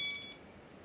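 A device gives one short, high-pitched electronic beep, close and clear, then falls silent.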